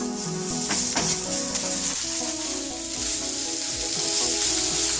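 Cumin powder stirred into a potato mixture frying on the stove for a potato sandwich, a steady close sizzle with a few soft stirring scrapes early on, no voices.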